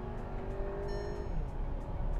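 A 2021 Volkswagen Tiguan TSI SUV accelerates down the road, its petrol engine a smooth, fairly quiet rising drone heard from inside the cabin, with no talk.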